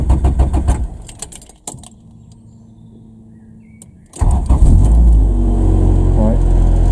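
A Honda Civic EF engine idles and then revs loudly, with a quiet pause in the middle before the engine note returns strong and steady; a door or keys are heard early on.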